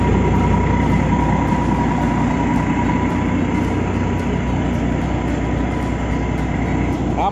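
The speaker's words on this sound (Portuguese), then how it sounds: "Olha só aqui o escapamento." A Chevrolet Silverado turbo diesel pickup's exhaust gives a continuous loud, rumbling drone heard up close, steady throughout with a constant whine above it and no talking.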